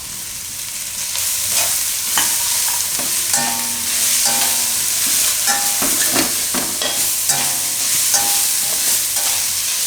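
Capsicum and carrot stir-fry in a hot pan for pava Manchurian, with a loud continuous sizzle broken by scraping clatters of a spatula against the pan.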